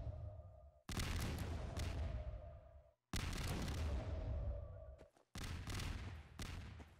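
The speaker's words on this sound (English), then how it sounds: "Cluster bombs." Cluster bomb explosions in a snowy tactical video game map, three loud, long booming bursts of blasts with short gaps between, each rumbling and decaying, the last followed by extra crackling detonations.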